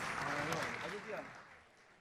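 Faint applause from a hackathon audience, a soft wash of clapping that fades over two seconds while voices talk beneath it.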